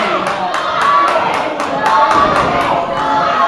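A loud arena crowd at a wrestling event cheers and chants, a steady roar with regular rhythmic beats running under it.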